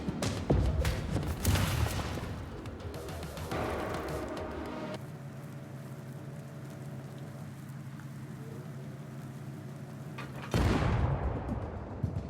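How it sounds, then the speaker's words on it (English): Ranged enemies in the cyberpunk pixel side-scroller REPLACED fire guns in sharp bursts of shots early on, then a sustained low hum and rumble of game ambience, with another burst of impact noise near the end. "This time we are introduced to ranged units shooting at us."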